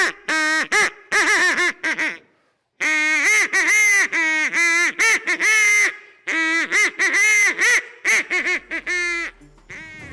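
A duck call blown for duck hunting in a Louisiana bayou setting, producing loud, close series of raspy honking quacks in rapid bursts with short pauses, sounding alone without talk.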